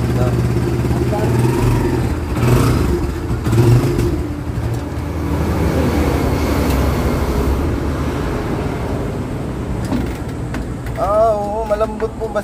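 A hard-starting vehicle engine runs close by with a steady rumbling idle and occasional revs, while people talk over it.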